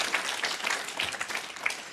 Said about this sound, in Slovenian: Lep aplavz.